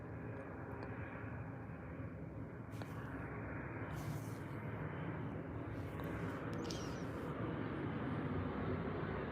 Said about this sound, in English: another plane is coming